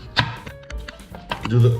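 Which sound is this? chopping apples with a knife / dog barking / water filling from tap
chopping apples with a knife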